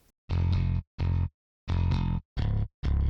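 A gritty synth bass distorted through a Radiator mixer amp plays five held notes in a short phrase, each with a fuzzy, saturated edge and clean silences between them.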